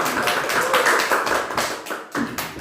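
A church congregation applauds, a dense patter of many hands clapping together that swells, dips briefly and resumes, heard up close without talk.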